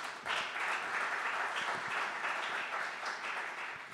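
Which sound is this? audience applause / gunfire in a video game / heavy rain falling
audience applause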